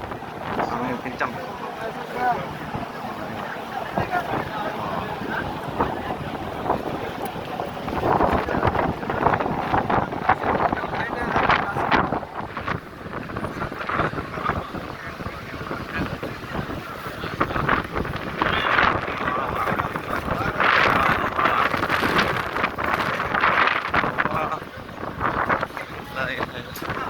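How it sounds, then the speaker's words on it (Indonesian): Strong wind buffets the microphone in gusty, roaring waves that swell and fade through the whole stretch, with a voice speaking at times under the rushing air. "angin kencang"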